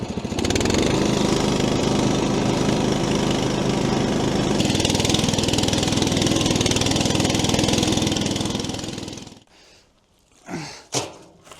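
A muck truck's small engine runs off-road in muddy woodland, giving a loud, steady mid-pitched drone close by for about nine seconds before cutting out, followed by a few faint scuffs.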